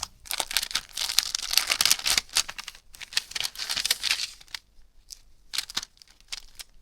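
A cloth book pouch holding a bookmark and postcard is opened, with bursts of close, crisp crinkling and rustling of packaging separated by short quiet gaps.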